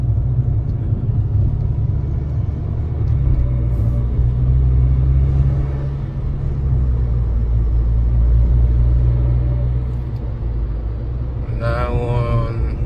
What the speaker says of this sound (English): This is the test drive video for the 2006 Golf GTI.